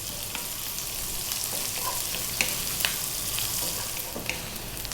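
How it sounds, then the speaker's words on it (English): Onions fry in a pan over heat just above medium for a shrimp curry, making a dense, even sizzle with occasional light pops and utensil taps, close and fairly loud with no one speaking. "we're going to go with 1 cup of onion, and on this above medium heat we're going to go for about 4 minutes or so"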